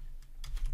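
A few soft key presses on a computer keyboard tap quietly and quickly in a short burst, faint and close, with no speech.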